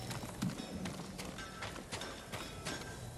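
Horse hooves in the video game Ghost of Tsushima, with rapid, even clip-clops of a trotting horse over a low background ambience.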